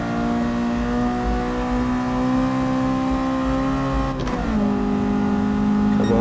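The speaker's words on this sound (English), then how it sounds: "Come on, keep it revving, keep it revving" Racing car engine in Gran Turismo Sport revving hard down a long straight, a steady loud high-pitched drone with VTEC engaged, briefly dipping at a gear change before climbing again.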